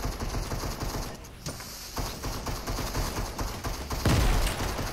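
Gunfire in the Fortnite Chapter 2 Search and Destroy mode arrives as dense, rapid bursts of shots with mechanical clatter and a heavy impact near the end. The shooting is loud and close, with no clear speech over it.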